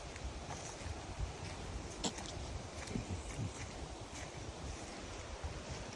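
A light breeze blows steadily by the water on a debris-strewn shore, with a soft, continuous rush of wind and surf. The sound is faint and even.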